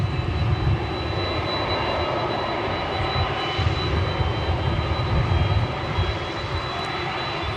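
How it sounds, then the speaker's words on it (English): An Embraer EMB 120ER Brasilia turboprop at DFW Airport gives off a steady, loud roar of propeller and engine noise, with a thin high whine running over it the whole time and no voices. "There you see what I believe to be an Embraer EMB 120ER Brasilia."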